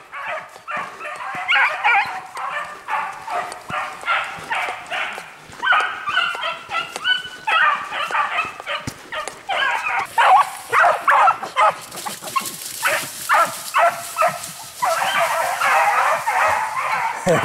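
Several hunting dogs barking and yipping excitedly and almost nonstop, a loud overlapping chorus with whimpers mixed in.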